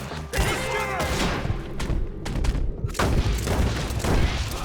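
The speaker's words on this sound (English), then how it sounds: "Quit shooting tree roots." Gunfire from a Red Dead Redemption 2 shootout fills the space, with rapid overlapping shots, booms and thuds going on nearly without a break, loud and close, over a background of game sound.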